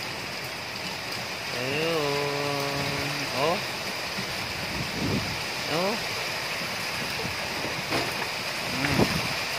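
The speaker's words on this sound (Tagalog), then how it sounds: "Napakalakas ng hangin. Kagabi pa tong hangin na to at saka ulan" Strong wind and steady rain from Typhoon Ulysses fill the air with a constant hiss and roar, while a nearby voice makes a few brief exclamations over the storm.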